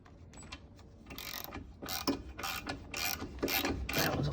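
A ratchet clicks in quick bursts while tightening 13 mm bolts on a Volkswagen lower ball joint, the pawl ticking loud and close in a steady rhythm that grows denser toward the end.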